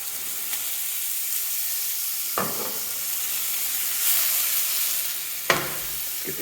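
Mushrooms frying in oil in a pan, a steady soft sizzle with a few sharper crackles and stirring scrapes, close and alone without talk.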